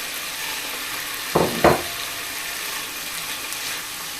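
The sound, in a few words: prawns and spring greens frying in a pan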